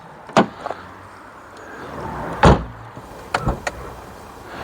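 The doors of a 1990s Rover 820 Vitesse are shut: two solid thuds up close, a heavier slam in the middle, then a couple of lighter latch clunks.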